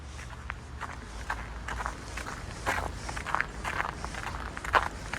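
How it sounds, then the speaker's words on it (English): Footsteps crunching through fresh snow on a neighbourhood walk in Toronto during a snowfall, a steady series of soft close crunches over a hushed outdoor background. "You can hear the crunch of my footsteps."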